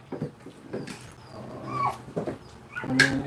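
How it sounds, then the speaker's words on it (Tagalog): Dog nearby giving short barks and yips mixed with high whimpering whines, in irregular bursts with quiet gaps between them. "Ingay yung aso."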